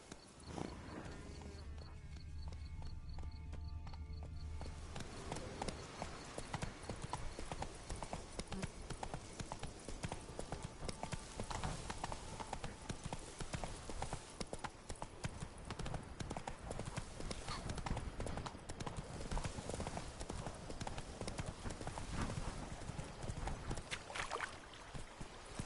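Roach, the horse in The Witcher 3, gallops with a continuous rapid clip-clop of hooves, loud and steady throughout, under a dense bed of ambient game sound.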